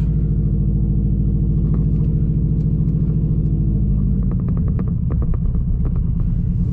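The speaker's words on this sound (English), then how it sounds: "As you can hear, the exhaust is extremely loud because it's broken." A red 2009 Subaru STI hatch with a broken exhaust rumbles very loudly and continuously up close, a deep droning throb that roughens with crackling pops as the car gets moving.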